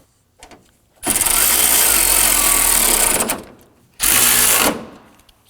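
A power tool snugs down radiator bracket bolts on a 2005-2009 Subaru Legacy during an AC condenser replacement, making two loud whirring bursts, one about two seconds long and a shorter one after a pause.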